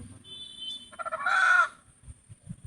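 A rooster crows once, close and clear, in a rising then sustained call, with softer chicken clucks scattered before and after it in a quiet farmyard setting.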